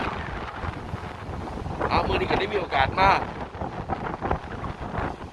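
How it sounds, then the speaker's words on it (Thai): Cool sea wind blows at a beach in Japan, rumbling steadily and buffeting the microphone, while someone talks over it in a relaxed voice. "รับลมเย็นจากทะเลครับ"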